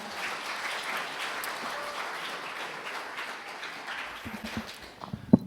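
An audience at a rural award ceremony claps steadily for about five seconds, a dense even patter that thins toward the end with a few louder, closer claps and knocks.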